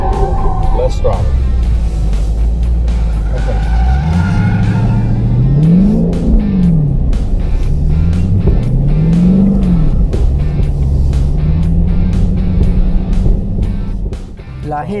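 A Dodge Viper or Hellcat driven on a racing school track slides under throttle, its engine note swelling and falling in repeated revs close by, with an instructor talking steadily over it.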